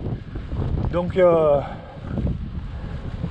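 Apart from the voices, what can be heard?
wind blowing during a fixed-gear bike ride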